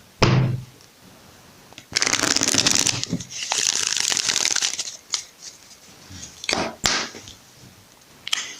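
Tarot cards are shuffled in several quick riffling bursts, close up, with brief pauses and soft handling noises between them.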